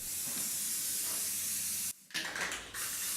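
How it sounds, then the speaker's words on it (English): Rust-preventing spray primer hisses from a can onto a metal bathtub in a long, steady burst near the mic, briefly cut off, then resumed in shorter sprays. "We used a spray primer that will keep the rust from coming back"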